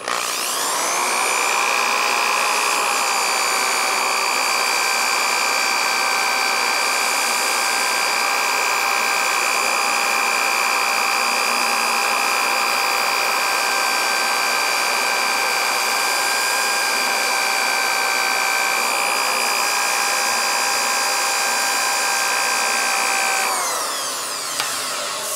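Steady high-pitched whine of a rotary sander smoothing a hollow metal sphere with 150-grit abrasive, running loud and continuous for over twenty seconds with strong tonal harmonics before cutting off near the end, no talk.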